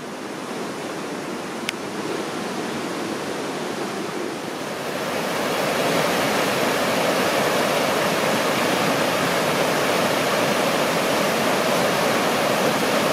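River rapids at Rock Creek rush in a steady, loud wash of white noise near an old bridge and blown-out dam, growing fuller partway through, with no voices.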